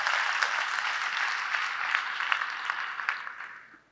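A large audience claps in agreement during a main-stage talk at a leadership conference; dense, sustained applause that holds steady and then tapers off at the end.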